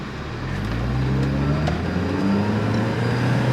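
A Mini Cooper S engine with a shifting fault revs steadily upward, its drone rising in pitch and briefly dropping as it shifts gears, loud and continuous from inside the car.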